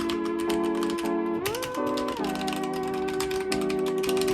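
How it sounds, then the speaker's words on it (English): Typing on a HyperX Origin Core mechanical keyboard, rapid clicky keystrokes in quick bursts, close and crisp, over a steady tonal background hum. "This keyboard is the HyperX Origin Core, and I do like it. It does sound pretty good"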